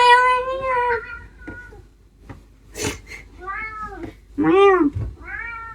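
A cat meows repeatedly, loud and close, with varied drawn-out calls separated by short pauses; a person's voice may mimic the meows.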